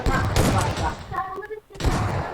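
Gunfire in the mobile battle-royale game PUBG Mobile: a loud burst of rapid shots, a short pause, then another burst, with excited talk from players over the shooting.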